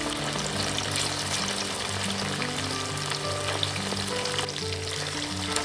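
Steady, dense sizzling of chicken pieces frying in hot oil, close and continuous with no pauses or talk.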